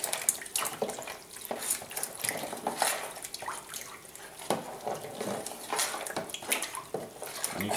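Liquid being stirred during home wine making, with light clinks and splashes against a container, moderately close and steady, no voices.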